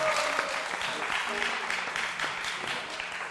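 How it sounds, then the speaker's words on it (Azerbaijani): An audience at a live stage show applauds for the actor Məcid Hüseynov, producing steady, dense clapping that fills the whole stretch at a moderate distance and fades slightly toward the end. "Bir əmin alqışlayaq da."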